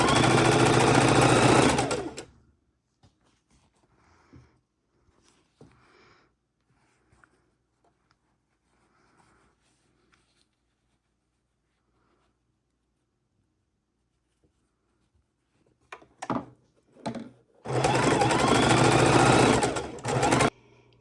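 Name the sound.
sewing machine stitching quilt panel rows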